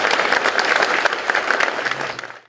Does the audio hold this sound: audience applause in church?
yes